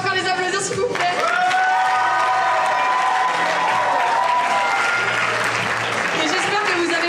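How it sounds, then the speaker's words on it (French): Audience applause at a cabaret evening, a dense crowd clapping that swells and carries on for several seconds while sustained musical tones play underneath. "On peut encore les applaudir s'il vous plaît."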